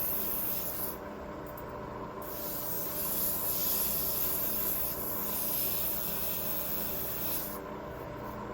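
A power sander runs against a leather headstall cheek piece near a metal buckle, giving a continuous close rushing hiss with slight rises and dips as the pad moves, no voices.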